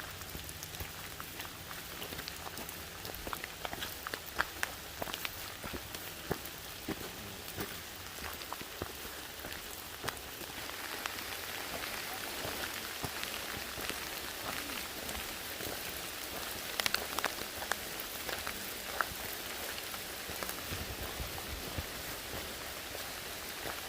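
Steady rain falls on the big trees and the trail along the Cades Cove loop in Great Smoky Mountains National Park. It is a soft, constant hiss of pattering drops with occasional louder splats, heard while walking and with no voices.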